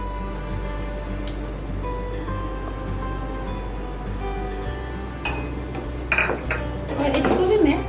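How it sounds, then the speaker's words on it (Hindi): Bengali-style mixed fruit chutney with grapes is stirred in a pan, giving soft scraping and clinking of a spoon against metal over a low background hum, with a louder burst of clatter near the end. "और इसको अच्छे से मिला लूँगी।"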